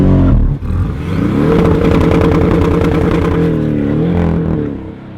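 A 2018 Porsche 718 GTS launches hard from a standstill, its engine roaring loud and close and climbing through the revs in a steady rising sweep before easing off at the end.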